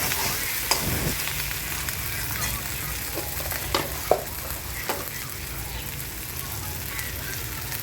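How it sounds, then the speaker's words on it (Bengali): Potato, tomato and onion sauté in a pan with a steady close sizzle, broken by several sharp scrapes and clinks of a spoon stirring. "দেখো আলু টমেটো পেঁয়াজ দিয়ে ভালো করে আমি কষিয়ে নিচ্ছি"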